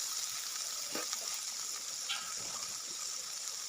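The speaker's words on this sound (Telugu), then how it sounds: "స్కిన్ సపరేట్ అయ్యేంత వరకు కలిపి వేపాలి" Tomatoes fry in a pan with a little salt, giving a steady soft sizzle throughout, with a few faint scrapes of stirring rising over it.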